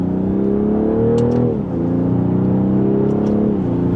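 A 2026 BMW 540i xDrive in sport mode pulls hard from second gear using the paddle shifter. From inside the cabin, a steady engine drone climbs, dips briefly at a gear change, then rises again.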